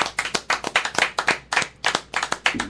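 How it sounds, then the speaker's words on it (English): A small studio audience on a show gives a round of applause, a few pairs of hands clapping close by in quick, uneven bursts that pulse rhythmically. "Can we get a round of applause?"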